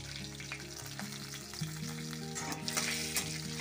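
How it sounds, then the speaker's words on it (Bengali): Two bay leaves, three dried red chillies and whole cumin crackle in hot oil that was used to fry vegetables, tempering a veg dal. A steady sizzle with stirring runs under sustained tonal background music. "এই সবজি ভাজা তেলের মধ্যে আমি ফোড়নের জন্য দিয়ে দিচ্ছি 2টো তেজপাতা, 3টে শুকনো লঙ্কা"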